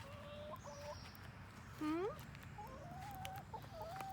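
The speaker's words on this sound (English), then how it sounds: "Miss Harriet got broody last week" Hens cluck in a backyard garden, with several short calls scattered across the clip and one louder rising squawk in the middle, all over a steady low outdoor background.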